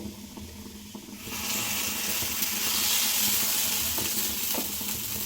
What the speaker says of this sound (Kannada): ಈಗ ಕಾದಿದೆ ನಾನೀಗ ಹಿಟ್ಟನ್ನೋದಕ್ಕೆ ಹಾಕೊಳ್ತೀನಿ ಪಡ್ ಮಾಡೋದಕ್ಕೆ